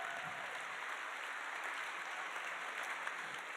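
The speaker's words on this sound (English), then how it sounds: "Let's give all of our new Blue Coat Circle members a big round of applause for joining us." Applause from a charity dinner audience welcoming new donor-circle members, a steady, even wash of many hands clapping at some distance, fairly quiet and continuous with no voices over it.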